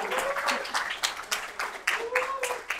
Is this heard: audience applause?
yes